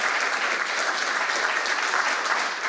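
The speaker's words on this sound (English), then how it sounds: "How about another applause?" An audience applauds steadily, a dense even wash of clapping from many hands that holds at full strength throughout.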